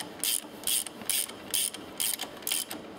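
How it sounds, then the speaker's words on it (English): A pulley on a C1 kit is turned by hand, giving a steady run of ratcheting, clicking mechanical bursts in an even rhythm, close and fairly quiet, with no speech. "I will check, still attached, by moving the pulley"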